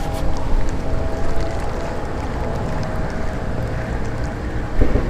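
Steady wash of many boat engines and water noise on open water on a large lake, with wind buffeting the microphone and a brief louder bump near the end.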